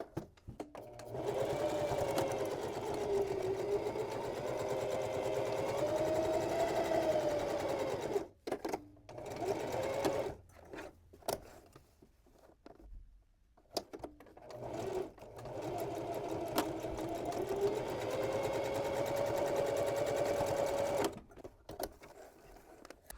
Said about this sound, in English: I'll sew from the top of the bag toward the upper mark, stop and back stitch